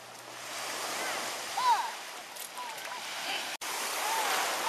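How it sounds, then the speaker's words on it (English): Ocean surf at a full-moon high tide on a Florida beach, with big waves rolling in; a steady, loud wash of breaking water runs throughout, with faint background voices and a brief dropout near the end. "Huge waves, it's full moon, high tide, big time waves, Hawaii style."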